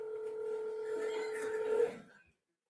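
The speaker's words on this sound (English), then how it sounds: "I have to make some urgent phone calls." A telephone number is dialed with a steady tone that holds for about two seconds and then cuts off into silence.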